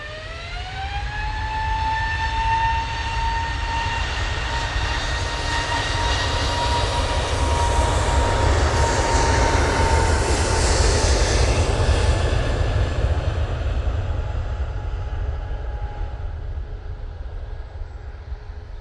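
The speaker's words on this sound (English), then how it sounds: "wow, that was a decent noise from the Ryanair just took off" A Ryanair jet takes off at Manchester Airport, its engines building into a loud, sustained roar with rising whining tones that levels off and persists steadily for nearly twenty seconds, with no talking.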